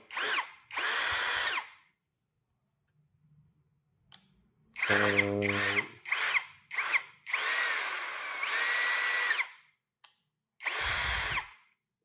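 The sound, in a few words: KEELAT KCD013 brushless cordless impact drill running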